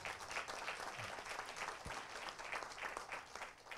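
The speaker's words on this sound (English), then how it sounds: "Now, round of applause for them." Audience applause for panelists at a retail-industry business forum in Petaling Jaya, a continuous, even crowd clapping heard at moderate distance throughout.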